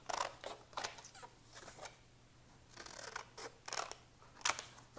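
Scissors snip paper calendar days out of a page, giving a run of crisp close cuts in an uneven rhythm with brief gaps between snips.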